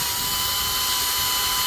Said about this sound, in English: It's just, you know, wire wheel brush on a drill.